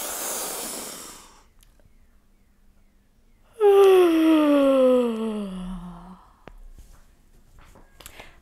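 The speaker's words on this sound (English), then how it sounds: "Take a big breath in." A deep breath drawn in during a children's yoga class, starting as a long airy inhale, followed after a pause by a loud breathy sigh-like sound with a falling voiced tone, fairly close.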